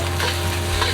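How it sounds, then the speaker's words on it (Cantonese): Rice and egg stir-fried in a very hot, oiled wok over medium-high heat for Hong Kong-style fried rice, giving a steady, close, continuous sizzle and scraping stir with no voices. "加埋啲飯落去"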